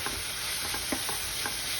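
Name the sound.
stirring mint paste mixture frying in pan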